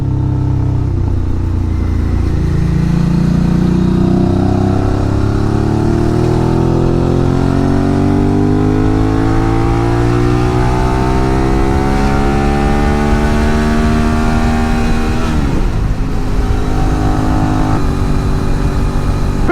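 A Suzuki V-Strom 650 carrying a pillion passenger hums steadily as it rides, its engine note rising and falling through the gears, loud and close with constant wind and road noise.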